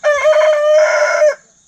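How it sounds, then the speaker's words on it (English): A young hen that has not yet learned to cluck gives one loud, close, drawn-out tonal call, wavering and meow-like, lasting just over a second before stopping. "And then over here we've got Peep, who hasn't quite learned how to cluck yet."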